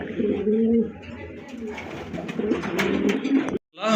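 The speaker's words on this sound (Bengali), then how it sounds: "প্রথমে এক জোড়া ড্যানিশ কবুতর দেখতে ভাই পাচ্ছেন" A pair of Danish pigeons coo in low, rolling calls at close range, repeating continuously before the sound cuts off abruptly.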